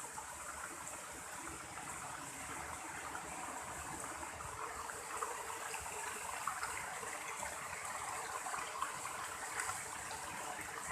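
Water rushes and gurgles steadily at low volume in a mountain irrigation channel, a continuous flowing wash with no voices.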